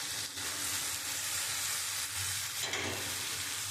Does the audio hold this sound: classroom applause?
no